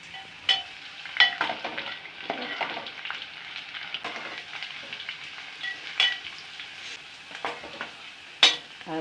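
Onions and masala frying in a pan for a trotters dish make a moderate crackling sizzle, with intermittent sharp clinks and scrapes of a spoon against the pan.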